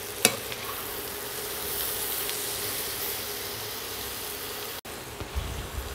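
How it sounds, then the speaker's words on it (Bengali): Onions fry in a pan with a steady, fairly quiet sizzle, a sharp clink near the start and light stirring scrapes toward the end, no voices. "পেঁয়াজটা খুব বেশি লাল করে ভাজবেন না"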